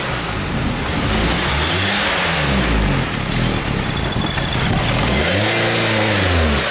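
A Nissan Sentra engine that barely runs, revving with a hose pulled off: a loud, close engine drone rising in two distinct revs, one near the middle and another near the end, with no talk.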